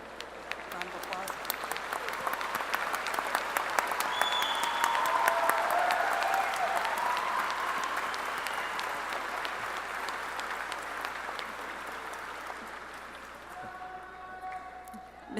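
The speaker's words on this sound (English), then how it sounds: "Round of applause." Commencement crowd at Keystone College breaks into a long round of applause, swelling toward the middle then gradually thinning out, with scattered voices and cheers mixed into the clapping.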